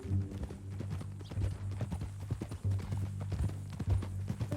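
Horse hooves clip-clop steadily in Red Dead Redemption II, a close, continuous rhythmic walking gait over a low rumbling background.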